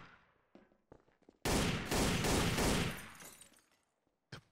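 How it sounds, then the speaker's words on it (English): A dense burst of rapid gunfire in a Trouble in Terrorist Town shootout lasts about two seconds and is loud and close, with a few scattered single clicks and shots before and after. "Bloody shootout"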